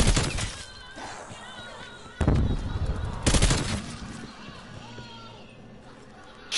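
Gunfire erupts in a zombie survival game called Outbreak Z, with loud bursts of shots and sharp impacts standing out sharply over a busy background.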